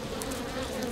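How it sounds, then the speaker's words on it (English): Native Japanese honeybees buzz at their hive in a hollow tree, a dense, continuous close hum of many wings with slight pulsing. "But these are native Japanese honeybees"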